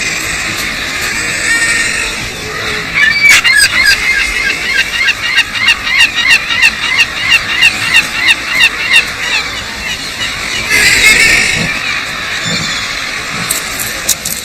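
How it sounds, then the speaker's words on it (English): Herring gulls call in a rapid series of loud, rhythmic cries, about a dozen in quick succession, over a steady background hiss and outdoor ambience. "Herring gulls are everywhere."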